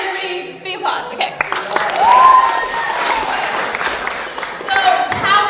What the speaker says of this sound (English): Everybody, big applause.